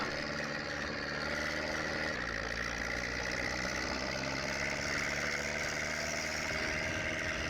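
A tractor engine idles in Farming Simulator 22, a steady low mechanical drone with faint vibration that holds even and loud throughout, with no speech.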